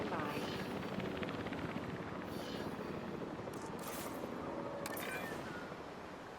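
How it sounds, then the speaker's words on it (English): Helicopter in the video game Jurassic World Evolution 3, a steady rotor and engine drone holding throughout at moderate level, with a voice talking over it. "Site selection as the helicopter is standing by."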